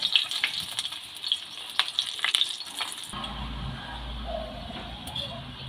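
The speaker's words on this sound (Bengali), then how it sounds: "এখানে রাইস ব্যান তেল ব্যবহার করছি তেল গরম হয়ে গেছে এবার পরোটাটা ভেজে নেব" A stuffed cauliflower paratha frying in hot rice bran oil, with a bright close sizzle and crackle, a few tong clicks early, then a deeper, steadier hiss with a low rumble.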